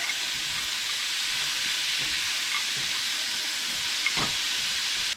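Steak and onions fry in a pan with a steady, close sizzle and hiss throughout, broken by a few faint crackles and pops.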